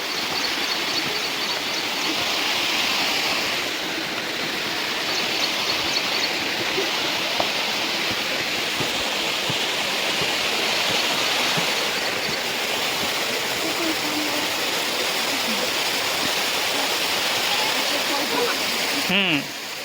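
Water flows and splashes steadily downhill into Lonar crater lake in Maharashtra, a loud, continuous rushing like a stream or small waterfall lasting the whole stretch, with faint voices at times.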